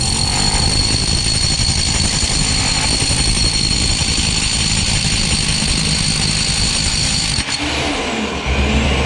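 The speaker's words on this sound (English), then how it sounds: "that's the brick wall that I need to hammer drill through" A Metabo SDS hammer drill roars loudly and continuously nearby, drilling through a brick wall for most of the clip, then cuts off abruptly near the end.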